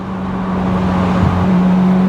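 A Euro-spec Ferrari F355 GTS sports car drives with a loud, steady engine note that dips briefly mid-run during a quick gear shift, then settles back to a constant drone.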